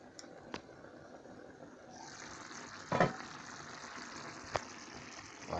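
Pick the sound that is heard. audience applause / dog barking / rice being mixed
rice being mixed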